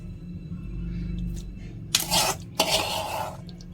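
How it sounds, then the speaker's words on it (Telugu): Tomatoes dropped into a pan while making tomato pickle, two short bursts of clatter and sizzle over a steady low kitchen hum. "ఇదిగోండి టమాటాలు వేస్తున్నా, చూడండి."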